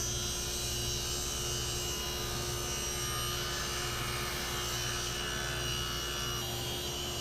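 Saw cutting wood pieces to length against a stop block on a workshop table, heard as a steady, loud whirring drone that carries on unbroken throughout, with no talk.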